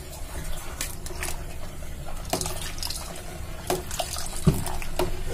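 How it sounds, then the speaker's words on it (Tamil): Water runs and splashes steadily into a pot of rice kheer, a continuous wash of liquid noise with a few small clinks and knocks. "அதனால தண்ணி ஆட் பண்ணிக்கிறோம்"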